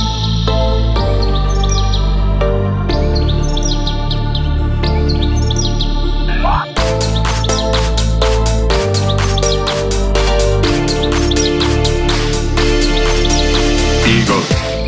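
A loud, dense house music track with sampled birdsong, quick high chirps and tweets layered over a pounding four-on-the-floor beat and heavy bass, running throughout with a brief dropout near the middle.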